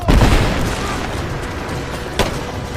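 Gunfire in the video game Rise of the Tomb Raider: a heavy opening boom followed by rumbling battle noise and one sharp crack later, loud and close.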